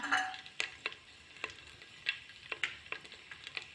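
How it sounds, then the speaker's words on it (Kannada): Mustard seeds pop and splutter in hot oil, a quick irregular run of sharp crackles and ticks over a faint sizzle, close and fairly quiet. "ಸಾಸಿವೆ ಚಟಪಟ ಅಂತಿದೆ"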